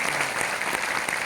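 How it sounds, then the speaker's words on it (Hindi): Dense, steady applause from a crowd at a business meeting, a continuous patter of many hands clapping at once. "एक बार जोरदार तालियों के लिए बजा दीजिए"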